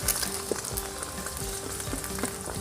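Mama instant noodles stir-fried with egg and cabbage sizzle steadily in hot oil, with soft scraping and stirring clicks of a spatula in the pan, close and continuous.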